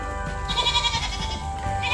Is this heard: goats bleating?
yes